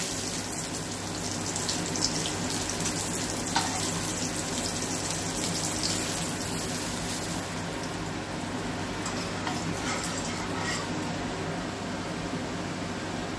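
Hilsa fish pieces fry in hot oil in a pan, giving a dense, steady sizzle that holds at an even level throughout with no pauses, close and fairly loud.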